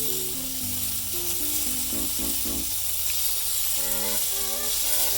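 Blackened barramundi fillets sizzle steadily in a hot pan just after being flipped, a continuous close frying hiss with music playing underneath throughout.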